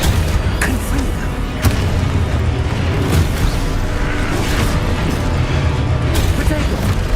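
A Confringo blasting spell goes off in Hogwarts Legacy, a loud continuous booming roar of explosions and rumbling effects with a voice calling out over it.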